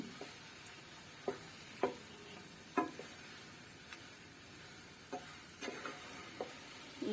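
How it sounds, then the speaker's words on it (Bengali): Chana dal halwa is stirred in a cooking pan with soft, intermittent scraping taps over a faint, steady hiss, heard quietly with no talk. "বিকেলের দিক দিয়ে আবার হচ্ছে যে বুটের ডালের হালুয়াটা বানাই নিতেছি"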